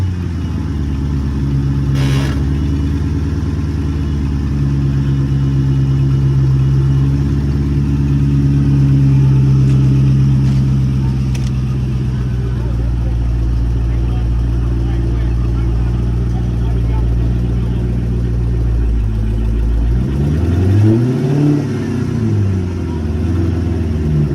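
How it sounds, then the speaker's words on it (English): A Dodge Charger engine at a towing auction rumbles loudly and close up, its pitch rising and falling as it revs, with a sharp swell near the end; the car won't go into gear. "Engine really sounds good on this Dodge Charger."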